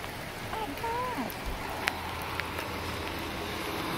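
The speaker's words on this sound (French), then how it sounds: "Il pleut de plus en plus." Steady rain falling harder, a dense even hiss that lasts throughout, with a faint voice briefly in the background and a couple of sharp ticks.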